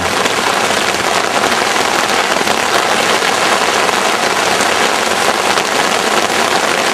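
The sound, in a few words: rain and hailstones falling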